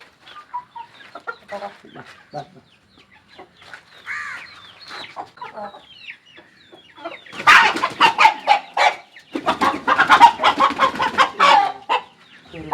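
A rooster with a flock of hens clucking nearby, scattered soft clucks at first building into dense, louder bursts of calls.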